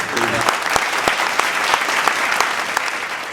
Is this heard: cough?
no